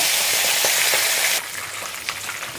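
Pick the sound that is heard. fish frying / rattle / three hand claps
fish frying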